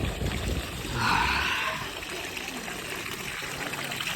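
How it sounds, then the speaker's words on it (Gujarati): Filtered water flows steadily into an outdoor swimming pool, a continuous close trickling and gushing with a brief louder splash near the start. "પાણી આવ્યા જ કરે નવું નવું પાણી ફિલ્ટર થઈને આવ્યા જ કરે"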